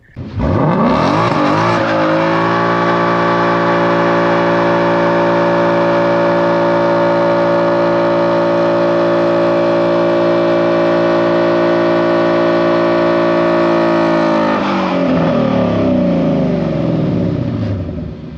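A next-generation Ford Mustang does a tire burnout: the engine revs up hard and holds a loud, sustained high-pitched roar for over ten seconds before dropping away.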